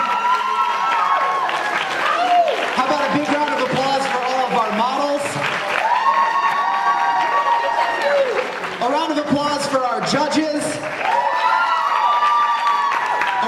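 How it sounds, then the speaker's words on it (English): A convention crowd applauds and cheers loudly and continuously after a makeup contest, with whoops and shouts rising over the clapping throughout. "let's have one more huge round of applause for all of our contestants today"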